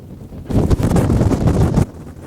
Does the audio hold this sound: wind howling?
yes